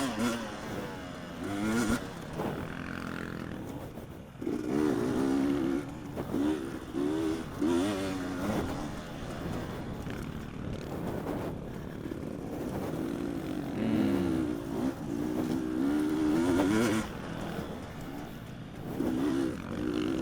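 Dirt bike engine revving hard at full throttle in a harescramble race in the TORCS racing game, a steady droning whine rising and falling in pitch across the run, fairly close and continuous.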